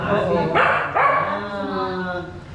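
A dog gives a couple of quick barks close by, with a person talking over and around them.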